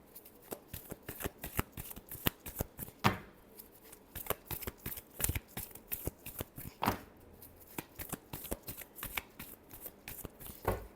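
Tarot cards are shuffled by hand in quick bursts of crisp riffling and slapping, repeated over and over in an irregular rhythm, close up and without talk.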